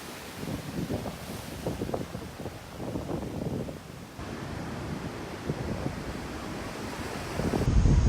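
Ocean surf rolls in beneath Huntington Beach Pier, with steady washing waves and gusty wind rumbling across the microphone, continuous and fairly close.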